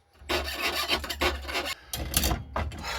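A jeweller's saw blade cuts through silver for a hand ring in quick back-and-forth rasping strokes, close and fairly loud, with brief pauses between bursts of sawing.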